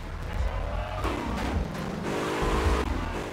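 Car engine from Grand Theft Auto Vice City rumbles steadily with rising revs and a brief tire-like squeal, close and continuous under excited talking.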